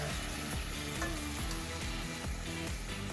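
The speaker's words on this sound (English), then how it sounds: "Now all of this we're going to add to olive oil in a pot and sweat it down for 5 minutes" Onions, garlic and herbs sweating in olive oil in a pot for pork meatballs, giving a steady soft sizzle and bubbling with faint scattered clinks, continuous and close, with no talking.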